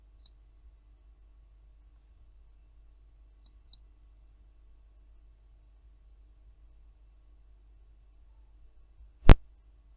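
A single sharp mouse click lands near the end of a mostly silent stretch, preceded by a few faint tiny ticks.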